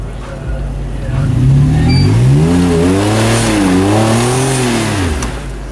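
A Jeep Wrangler JK Unlimited engine revs hard as it climbs a big rock on an off-road trail in Wellsville, loud and close, its pitch rising and falling in long surges.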